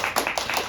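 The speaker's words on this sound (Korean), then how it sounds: "박수!" A few quick, rhythmic claps from a congregation at a Korean Presbyterian Sunday worship service in Toronto, sounding close and moderately loud in a short burst.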